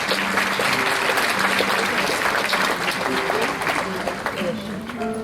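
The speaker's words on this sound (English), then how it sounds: "Please give her a huge round of applause" At the Father Agnel School, Noida annual prize distribution, a large audience applauds a prize winner with loud, sustained clapping, with faint voices and tones underneath throughout.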